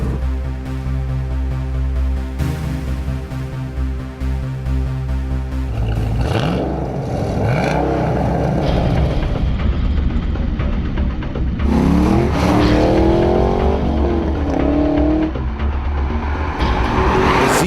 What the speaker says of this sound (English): Z28's big V8, rear-wheel drive traction, and relatively slow-shifting 6-speed manual were no match whatsoever for the GTR's twin-turbo V6, all-wheel drive stickum